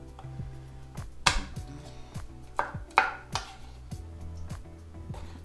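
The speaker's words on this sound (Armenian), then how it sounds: "սխտորն էլ կտրատեցինք" A knife chops garlic cloves on a board, a series of sharp, uneven knocks at close range over a steady low hum, with a few louder strikes.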